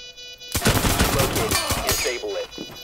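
Rapid pistol gunfire in the tactical shooter Rainbow Six Siege during a one-on-one close-quarters fight, a burst of loud, sharp shots in quick succession with metallic ringing, followed by a voice speaking.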